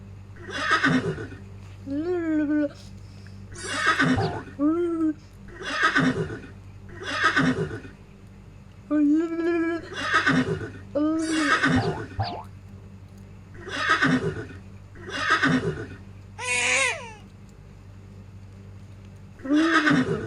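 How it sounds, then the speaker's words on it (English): Repeated horse neighs and whinnies sound in a sound memory game, about a dozen separate calls spaced evenly with short pauses, loud and near. "Ooh, horsey."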